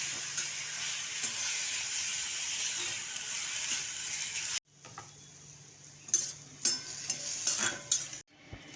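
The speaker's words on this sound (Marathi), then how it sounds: "भाजी पण चांगली परतून घेऊया आपण" Spring onion greens sauté in a pan, giving a steady sizzle before a cut, then scraping, clicking spatula stirs over a softer hiss, close up without talk.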